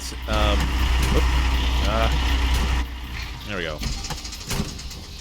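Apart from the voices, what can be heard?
tractor engine running in video game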